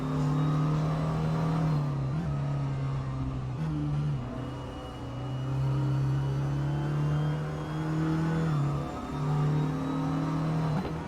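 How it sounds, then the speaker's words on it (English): Race cars in a racing game idle and rev at low rpm at the Dijon-Prenois circuit: a steady, droning engine note that dips and rises slightly as the revs change, loud and close, with no speech. "Still feels really weird to hear these cars at such low revs"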